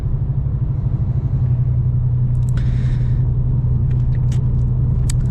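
A steady, low engine drone from a Holden VS Series III Statesman with a 5-litre V8 cruising at 80 km/h, a deep rumbling hum with faint ticks and rattles on top.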